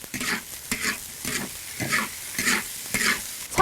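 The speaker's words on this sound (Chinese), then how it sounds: "继续给它炒出红油。" Chilli paste and bean paste stir-fried in hot oil, a steady sizzle broken by rhythmic scrapes and tosses of the spatula about twice a second, close and fairly loud with no talking.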